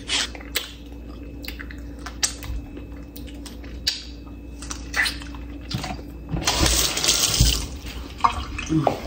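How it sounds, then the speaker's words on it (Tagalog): Tap water runs into a container in a home kitchen, a steady splashing flow that swells louder near the end, with scattered clinks and knocks around it and no talking. "Lagyan natin itong tubig."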